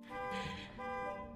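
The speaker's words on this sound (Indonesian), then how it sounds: "Saat Bobby hampir menemukannya, Emma menyalakan alarm mobil untuk mengalihkan perhatian." A car alarm set off on a parked car in a film scene sounds as a steady, tonal electronic wail, fairly faint and distant, pulsing in two short stretches with no voices.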